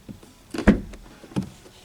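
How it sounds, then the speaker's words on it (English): A BMW 2 Series Coupe door swings shut with a solid, deep thud, preceded by a softer latch click and followed by a second lighter knock, all close and clear with no talking. "the sound of the door whenever you close it"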